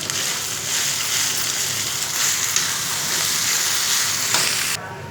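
Shredded cabbage with curry leaves and green chilies sizzling steadily in hot oil, a loud, continuous crackle close up that drops slightly near the end.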